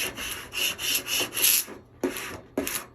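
A squeegee rubbing firmly across a vinyl decal on a tumbler in several short strokes, with soft crackling and popping of air bubbles, close and fairly quiet, ending in two sharper swipes.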